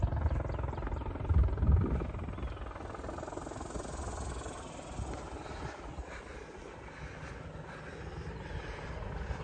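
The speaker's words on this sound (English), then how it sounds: "Check this out. We got a helicopter." A helicopter flies overhead outdoors, its rotor and engine drone swelling early, then settling into a steady, moderately distant whir with no talking.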